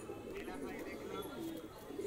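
Pigeons coo in a loft housing Andhra tournament birds, soft murmuring calls under a voice speaking nearby.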